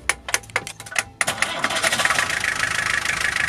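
A van's starter cranks in a few quick bursts after its stuck starter brushes were freed, then the engine catches and settles into a steady, fairly loud running rumble.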